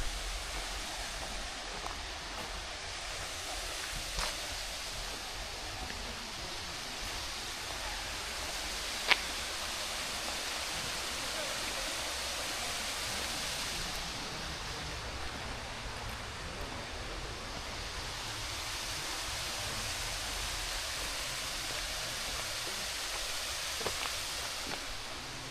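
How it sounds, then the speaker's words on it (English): Hemlock Falls waterfall gives a steady, broad rushing roar that stays constant throughout, with an occasional faint click over the noise. "So this is finally the Hemlock Falls."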